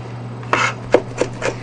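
Kitchen knife chopping food on a cutting board during a jellyfish salad and squid stir-fried udon cooking stream, four distinct close knocks spaced irregularly over a steady low hum, with no talk.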